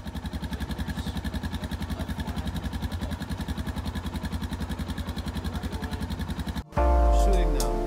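A motorcycle engine idles close by in Ecuador with a steady, rapid thumping pulse, then cuts off abruptly into a different sound.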